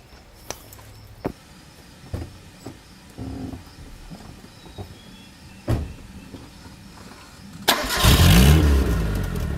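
Car parked beside a tire starting up after several scattered clicks and knocks nearby, then the engine cranks and catches with a loud rising roar at the end.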